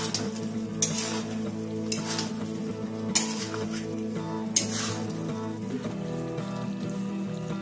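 A spoon stirs vegetarian bread balls in thick, salted gravy in a pan, with sharp scrapes and clinks against the metal every second or so over a low steady simmer, close and fairly loud, with no talking.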